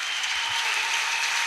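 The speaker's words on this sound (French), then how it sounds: "Une acclamation au Seigneur." A church congregation claps in acclamation to the Lord during a sermon, a steady, even burst of many hands applauding alone for a moment.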